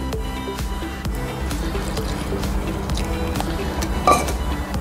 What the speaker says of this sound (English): Then we'll add the water in.